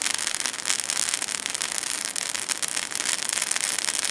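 A signal fire burning outdoors gives a dense, steady crackle and hiss, with constant rapid popping and no pauses or voices.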